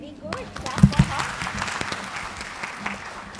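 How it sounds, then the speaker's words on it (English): Audience clapping in a training session, a short burst of moderate applause in an indoor room with a couple of louder close claps early on, then settling into a softer, steady patter. "Clap for her."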